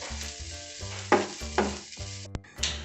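Fennel seeds and garlic fry in a pan, a close sizzle with a few sharp scraping stirs over a steady humming tonal background.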